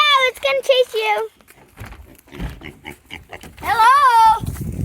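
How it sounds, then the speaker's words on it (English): On a farm, a pig squeals and grunts in loud, rising bursts at the start and again near the end, with scuffling and voices talking in between. "Here comes the piggy."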